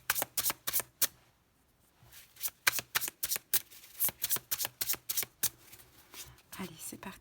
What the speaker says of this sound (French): on pose les 5 cartes.